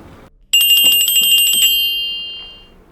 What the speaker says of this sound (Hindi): ये किसका फोन बज रहा है?